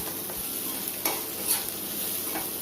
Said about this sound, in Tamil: ஒவ்வொரு காயமும் நம்ம போட்டு நல்லா வதக்கி விட்டுக்கிட்டே இருக்கலாம்